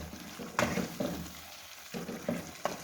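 Chicken karahi being stirred after a tablespoon of black pepper goes in, with a soft sizzle broken by several spaced scraping spoon strokes in a pot, no voices.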